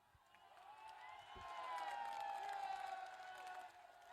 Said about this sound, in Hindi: अब ये देखिए दर्शकों की शोर मच गई है।